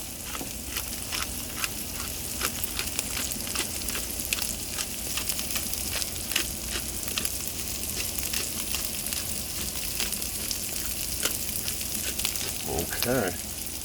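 Smash burger patties sizzle loudly on a hot griddle after flipping, a dense continuous crackle with sharp spatter pops and a brief scrape of a spatula near the end.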